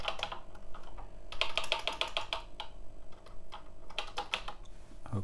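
Typing on the keyboard of an EG 2000 Colour Genie home computer, with bursts of fast, close, clicky keystrokes separated by short pauses over a steady low electrical hum.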